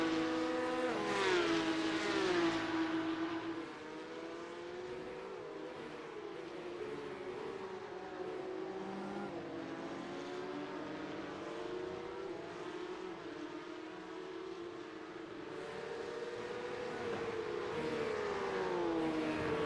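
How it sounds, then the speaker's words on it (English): Race cars roaring around the Red Bull Ring circuit, several engines sweeping past in overlapping waves of rising and falling pitch, loud and continuous throughout with no talk. "A little bit of a wiggle there from the number 31 of Declan Daniel getting out of Remus"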